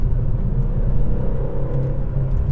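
Steady low engine rumble and road noise from a BMW E46 M3 driving at speed, heard from inside the car, continuous and fairly loud with no talk.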